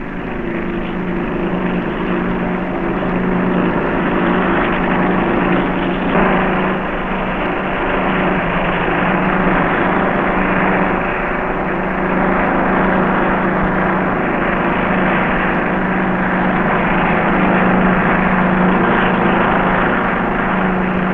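Helicopters of the HMS Victorious squadron flying from temporary jungle bases on the African coast, a steady loud rotor and engine drone that holds for the whole stretch with no voices.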